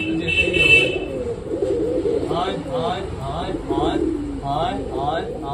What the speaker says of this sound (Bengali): তো এখনো পায়রাগুলো এখানে আছে